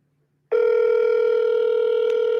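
A steady telephone ringback tone starts abruptly after a moment of silence and holds loud and unbroken as a phone call is placed.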